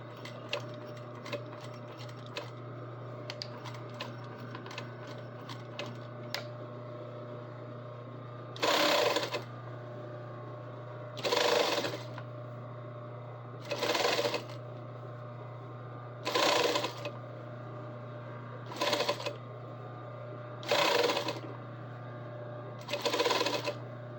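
Top stitching on an Edwardian collar, a sewing machine runs in short bursts of rapid whirring stitches, about seven runs separated by pauses over a steady low electrical hum, with light ticking at the start.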